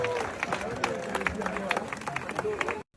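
A church congregation claps hands in a steady, dense patter that runs throughout, with voices and crowd murmur mixed in before an abrupt cutoff.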